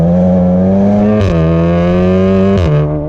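A 600bhp Volkswagen Golf R engine revs hard and loud up close, holding a deep droning roar with two abrupt pops and crackles between gear changes as the pitch drops and climbs again.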